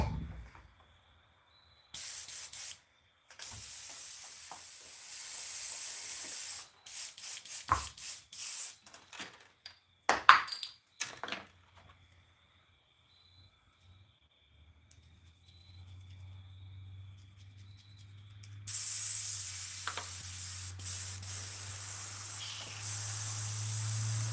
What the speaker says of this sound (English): let's get this airbrush clean so we can go to the next color